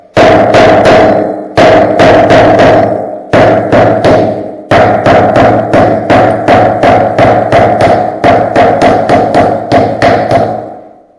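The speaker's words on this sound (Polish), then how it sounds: "bierzemy normalnie młotek i próbujemy to rozwalić" A hammer repeatedly strikes freshly laid terracotta floor tile still set in wet adhesive, loud close bursts of sharp cracking knocks arriving in quick irregular runs with brief pauses between volleys.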